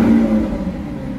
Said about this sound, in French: Ça, c'est un bruit de voiture de bonhomme